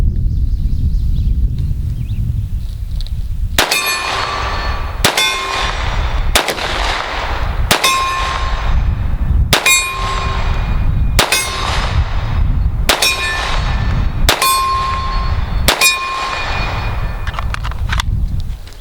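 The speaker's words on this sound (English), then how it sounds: "I'll put up a video real quick of me shooting." Glock pistol fitted with a Glock Performance Trigger fired at steel targets about 25–30 yards away, giving about ten sharp shots at an even pace, each followed by a bright ringing clang from the steel.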